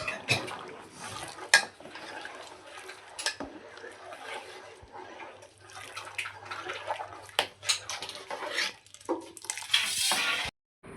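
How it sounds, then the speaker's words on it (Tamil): A spoon scrapes and stirs thick, bubbling sweet dough-porridge in a pot for pal kozhukattai, a Tamil teething dish made with flour and cow ghee, with steady irregular scraping clatters close up and no talk. "கொஞ்சம் கொஞ்சமாக சேர்த்து அடி பிடிச்சிடாமல் கிளறிக்கிட்டே இருக்கணும், கை விடாமல்"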